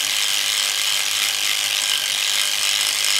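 A polymer clay piece is sanded by hand with 320 grit sandpaper, making a continuous close, hissing, scratchy rasp with no pauses or speech.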